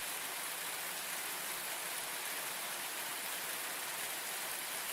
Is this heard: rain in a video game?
yes